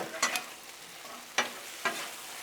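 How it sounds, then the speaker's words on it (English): Teriyaki chicken with pineapple and onions being stir-fried, a soft background sizzle with three or four quick scraping knocks of a utensil. "Mix all that in."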